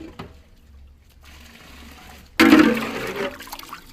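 Fresh watermelon juice pours through a strainer in a sudden splashing gush after a quiet stretch, a close liquid rush that continues steadily to the end.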